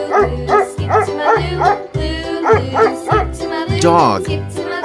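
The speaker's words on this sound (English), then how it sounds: "Dog." A dog barks in a steady run of about eight loud, close woofs with an even rhythm, and the final bark slides into a whining tone.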